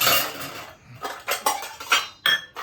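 Bowls and dishes clink together in a series of sharp, bright knocks, several in quick succession, close by with no talking.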